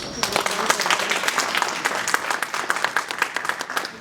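A commemoration event audience applauds a speaker, dense crisp clapping from many hands close by, steady and lively for several seconds, with no words emerging above it.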